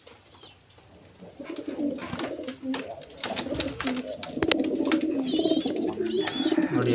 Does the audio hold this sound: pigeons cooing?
yes